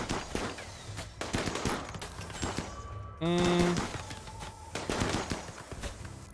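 Gunfire in the colony game RimWorld crackles in rapid bursts of sharp shots, with a brief tonal alert chime partway through; a voice talks over the action.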